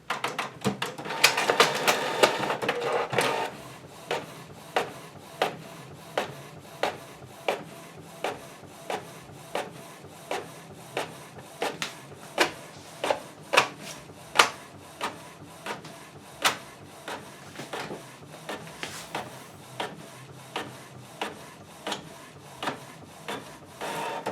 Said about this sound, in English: put it in the printer. So I went ahead and print this document.